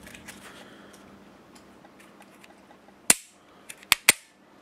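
Three or four sharp, loud shots from an HK Mark 23 SOCOM pistol crack in quick succession after several seconds of quiet handling noise, each followed by a short ringing decay.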